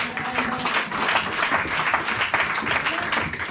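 A church congregation applauds steadily, a dense, sustained wash of clapping that holds at an even level throughout, with a voice faintly mixed in.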